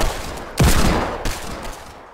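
Gunfire in Fortnite Creative Mode: two sharp, loud bursts of shots about half a second apart, each trailing off quickly, with no voices over them.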